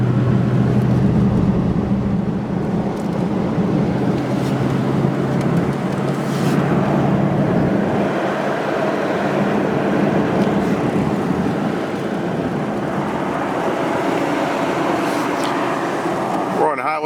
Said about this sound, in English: We're just on Highway 12 headed west out of Trinidad.